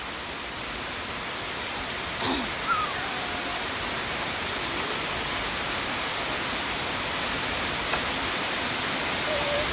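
Heavy rain pouring down in a rural Thai village, a dense steady hiss of falling water that holds even throughout, with a faint brief sound near the start.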